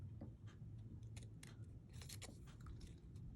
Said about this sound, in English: I'm going to go over here and I'm going to cut these pieces off